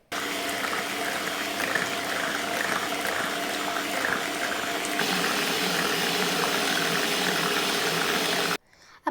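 An electric mixer beats eggs with powdered sugar and vanilla essence for a carrot cake batter, whirring steadily and close for about eight seconds before cutting off abruptly near the end.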